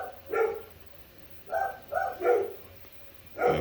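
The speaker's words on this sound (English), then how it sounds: "I'm going to hit pause and find out why they're barking." Dogs barking in short bursts, a couple of quick barks early, then a cluster of yaps and one more bark, somewhat muffled from another room.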